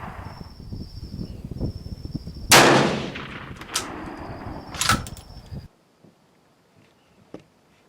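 A Steyr rifle fires once at a range target, a sharp loud crack followed by rattling echo and a few smaller knocks, then quiet. A faint tone sounds in the background.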